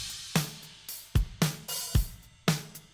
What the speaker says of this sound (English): there's just that little bit of slapback that you can hear from the room